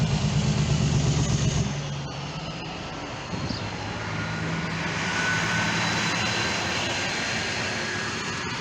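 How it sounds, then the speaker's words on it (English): A large truck rumbles past on a hillside road near a community park, its loud engine drone holding steady and close before easing slightly, with no talk over it. "Oh God, truck coming by."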